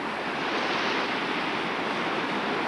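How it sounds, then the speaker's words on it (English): Ocean surf breaks where the Sayoo river empties into the sea in Alaska, with people fishing nearby. A loud, continuous hissing wash of waves fills the whole stretch, with no voices. "Here's the ocean."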